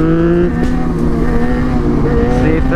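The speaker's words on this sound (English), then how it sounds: "I've been trying to use third gear a little bit more so I can have less engine brake" A motorcycle engine held steadily in third gear while riding, a continuous close droning hum with a stable pitch and slight fluctuations in load throughout.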